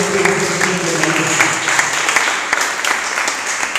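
A church congregation claps together during a French-language teaching service, a dense, steady round of applause with sharp individual claps, close and loud, with faint voices mixed in.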